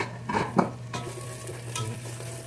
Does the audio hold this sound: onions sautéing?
yes